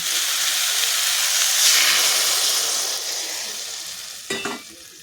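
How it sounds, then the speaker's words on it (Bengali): Water stirred into a sizzling prawn and muskmelon curry, a loud hissing sizzle that slowly fades, broken near the end by a short clatter of the spoon against the pan. "জলটা দিয়ে আবার একটু ভালো করে নেড়ে নেব, নাড়াচাড়া করে নেব।"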